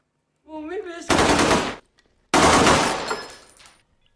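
A brief vocal cry, then two loud bursts of rapid automatic gunfire inside a hotel in India during a deadly attack, separated by a short pause, the second trailing off with scattered echoes.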